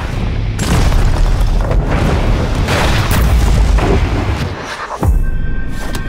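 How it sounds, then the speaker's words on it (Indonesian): Loud, rumbling booms of an explosion in the middle of a city striking a truck, with a sharp new blast near the end over continuous roaring noise. "Kemudian muncullah sebuah ledakan di tengah kota yang menimpa truk mereka."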